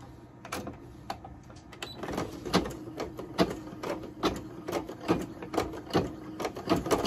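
An embroidery machine sewing a satin stitch for an applique design thumps out a steady run of quick needle strikes, a regular rhythmic pattern that is moderately loud and heard alone.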